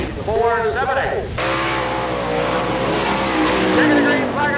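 A sprint car taking the green flag on a time lap at a dirt track, its engine roaring loud and close with rising revs and a sharp surge, while an announcer talks over it.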